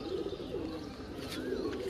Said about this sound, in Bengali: খুব সুন্দর ফ্রেশ পায়রা আছে